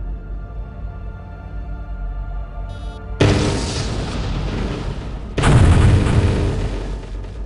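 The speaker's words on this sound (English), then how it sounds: "Well, that explosion did absolutely nothing." Two heavy booming blasts in the Star Wars game Jedi Knight: Jedi Academy, the first hitting around three seconds in and a louder one following two seconds later, each leaving a long rumbling roar.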